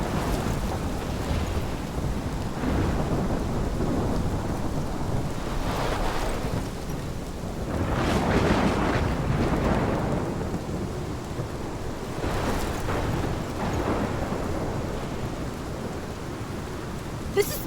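A thunderstorm with rain in the video game Life is Strange: steady, loud rainfall fills the scene while deep thunder rumbles swell and roll through it several times, with no voices.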